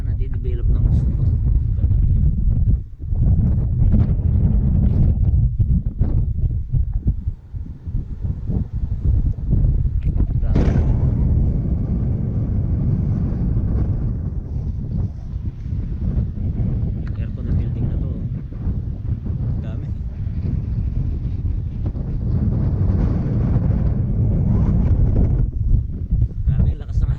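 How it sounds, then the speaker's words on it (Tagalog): Strong wind buffets the microphone with a heavy, constant low roar at a riverside in Akiruno, Japan, while people speak intermittently beneath it. "napakalakas ng hangin"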